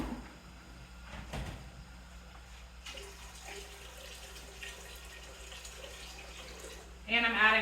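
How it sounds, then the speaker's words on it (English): Water from a kitchen tap runs into a stock pot on the stove with a steady hiss, interrupted early by a brief knock and followed by a louder splash near the end. "And I'm adding water back to the stock pot"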